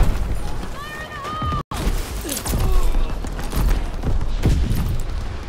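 Battle gunfire from the World War II video game Call of Duty WW2, with scattered shots and booms running through the clip over a dense, noisy game mix that includes horse sounds.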